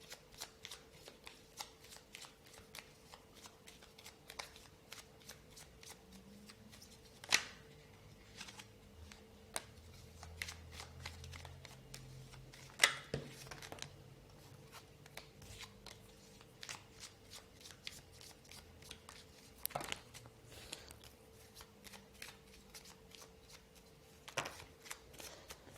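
Tarot cards are shuffled quietly and continuously, with soft riffling flicks and occasional sharper slaps over a faint steady hum, close and low in level.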